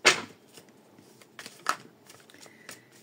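Playing cards are shuffled by hand for a tarot-style card reading. There is a quick riffle burst at the start, then a few softer flicks and taps of the cards, close and with no talking.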